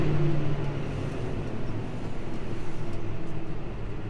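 A farm tractor pulling mowers runs through a second-cut mowing pass with a steady, droning engine hum. It stays loud and close throughout, with a slight pulsing rhythm and no talk.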